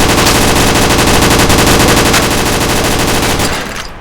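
Rapid automatic gunfire in a VR shooting game rattles loud and continuous, a dense burst of shots that runs for several seconds before cutting off and fading into a short tail.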